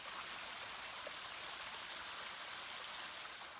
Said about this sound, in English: can hear the little creek flowing behind us here and frogs and birds